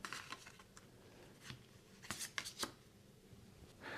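Playing cards in a board game are handled and shuffled close by, making soft papery rustles and flicks with a few sharper snaps.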